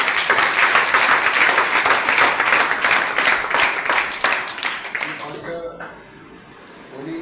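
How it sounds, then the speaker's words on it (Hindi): An audience claps loudly at a gathering, dense rhythmic applause running steadily for several seconds before fading, with a voice speaking over it. "इतनी टीम बड़ी की है जोरदार ताली हो जाए"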